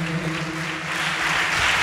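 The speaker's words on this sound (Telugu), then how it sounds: "చప్పట్లు కొట్టండి అందరూ గట్టిగా." A church congregation at Sunday worship claps together, loud and close, as a dense steady wash of applause. Lower voices or music murmur underneath.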